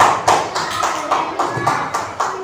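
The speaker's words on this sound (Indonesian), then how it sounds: "Beri tepuk tangan untuk kelompok hebat." A classroom group receives clapping, a burst of hand claps in an uneven patter over a steady room murmur, with faint voices underneath.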